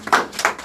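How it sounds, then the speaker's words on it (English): A small office team at a morning meeting claps, the brief burst carrying a few distinct, close hand claps in quick succession. "everybody, let's give a round of applause on that"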